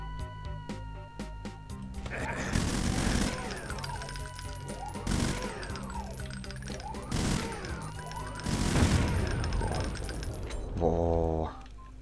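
Barrels explode in Brutal Doom, a run of loud blasts and crashes arriving every couple of seconds, each with a booming burst and scattering debris over background game music.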